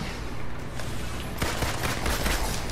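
Rapid bursts of gunfire from the Marvel's Avengers video game, loud and dense, with sharper volleys crowding together in the second half of the clip.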